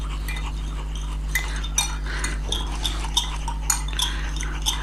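A spoon mixing masala in a dish for grilled fish, a series of light metallic clinks and scrapes at an irregular rhythm over a low steady hum, close by and without speech.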